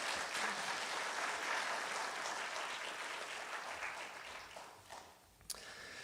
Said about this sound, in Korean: 우리 환영의 박수로 목사님 맞이하겠습니다.